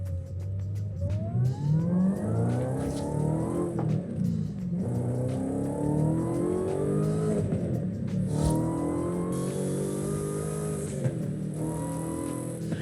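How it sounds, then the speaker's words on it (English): Car engine in Forza Horizon 5 revving hard through repeated gear changes while driving, rising whines dropping back at each shift, loud and continuous with no talk. "let me go ahead and drive the car first"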